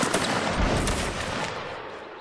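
Massed musket volley in a Napoleonic Wars battle game, a dense crackling burst of many shots at once that fades into a rolling, echoing rumble.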